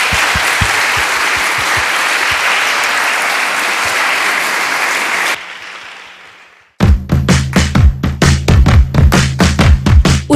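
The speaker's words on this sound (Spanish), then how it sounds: "Y pues nuevamente un aplauso," Loud, dense applause from a university lecture audience at a neuroscience summer session, sustained for about five seconds before fading to near silence, then a burst of close, sharp individual claps.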